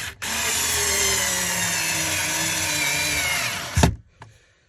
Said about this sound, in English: So I've got my little parkside drill, just screw that in there.